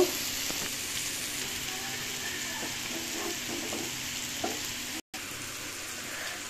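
A steady, hissing sizzle of hot water poured into a frying pan fills it throughout, with faint stirring clicks underneath and no voices.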